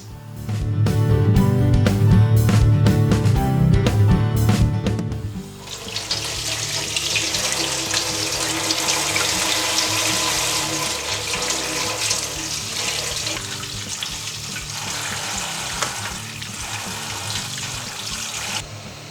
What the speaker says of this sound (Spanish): Y con todo esto nos vamos al grifo para lavarlo bien.